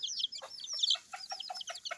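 Baby chicks on a small farm chirp in quick, high, overlapping peeps, a steady busy twitter close by with no voices.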